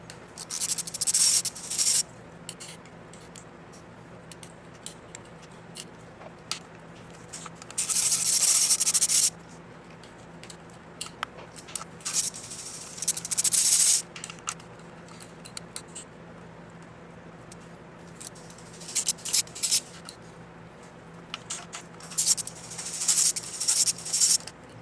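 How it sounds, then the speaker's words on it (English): A 10mm coil pack bolt being unbolted on a Nissan SR20DET engine, with bursts of ratcheting and scraping, several longer runs of steady wrench clicking, near and fairly loud, no talk. "Now we're going to unbolt all the coil packs."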